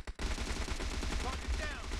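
Rapid gunfire in a PUBG Mobile match, a steady stream of loud, close bursts running almost without a break after a brief opening gap.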